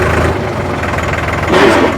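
Tractor engine fitted with a new silencer, running in second gear: a steady, close, loud low rumble with an even chugging pulse, swelling slightly near the end, with no talk over it.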